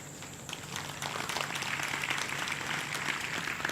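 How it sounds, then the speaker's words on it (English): Crowd applause at a spiritual talk: a soft, distant wash of many hands clapping, starting faint and swelling to a steady patter that holds at a low, even level. "All Tamil people are clapping."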